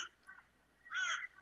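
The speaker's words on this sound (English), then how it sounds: "I love the birds." Birds call outside, with a crow giving a couple of harsh caws, one faint and brief and a louder, fuller one about a second in, nearby in a quiet room.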